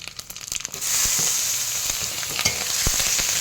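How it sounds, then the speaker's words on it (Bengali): Panch phoron spices and green chilli hit hot oil for sukto, bursting into a loud, close sizzle after a few light clatters, then crackling steadily with sharp pops and stirring scrapes. "এবার আমি ফোড়ন দেবো, 5 ফোড়ন দেবো।"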